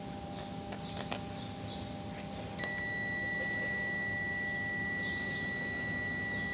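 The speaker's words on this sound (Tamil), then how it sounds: "இப்போ வந்து பீப் சவுண்ட் வருது." Multimeter continuity tester sounding as the normally open contacts of a water tank float switch close: a steady electronic beep begins abruptly partway through and holds continuously to the end, over faint background hiss.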